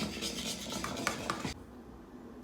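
Whisking egg mix into chocolate pudding in a saucepan, a brisk scraping, rattling whisk against the pan for about a second and a half, then a near-silent pause before a sharp clink at the end.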